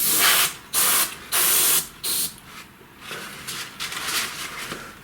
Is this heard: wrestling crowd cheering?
no